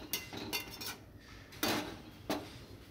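A metal lid is set onto a cooking pot of Bengali biulir dal with hilsa fish head, making several quick, close metallic clinks and clatters in a quiet kitchen, with no one talking.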